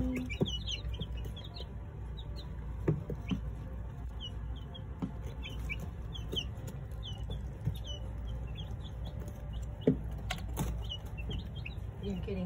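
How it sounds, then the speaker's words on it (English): Young chicks peep in high, rapid chirps throughout, with occasional clucks and soft thumps nearby, all at a fairly quiet level. "Good morning, little chickies."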